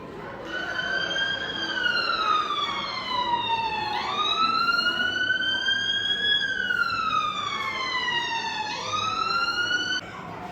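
An ambulance siren passes close by, its wailing tone rising and falling in long sweeps, loud and steady throughout with a noisy street background.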